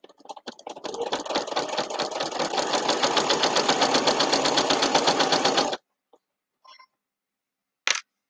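A sewing machine stitches fabric for a potholder in a steady rapid mechanical chatter for about five seconds, then stops abruptly, leaving a few faint clicks and a short bright tick afterward.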